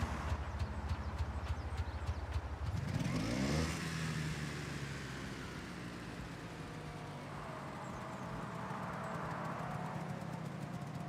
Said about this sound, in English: Do you hear this engine?